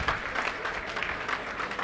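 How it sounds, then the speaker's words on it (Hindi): Audience applause welcoming a speaker at a management talk, a steady dense wash of clapping from a crowd filling the full stretch without any voices. "जोरदार तालियों से स्वागत।"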